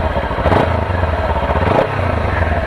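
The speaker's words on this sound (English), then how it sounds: "Check out the exhaust." A motorcycle exhaust runs close up from behind the bike, a steady low throbbing idle with a slight lift in the rumble twice, loud and alone.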